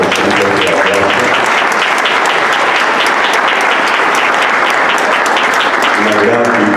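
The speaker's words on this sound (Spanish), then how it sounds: "la arpista Amalinalli López Pichardo, a quien les invito a que le demos un fuerte aplauso." An audience at an award ceremony gives a harpist loud, sustained applause, and a voice speaks over the clapping at the start and again near the end.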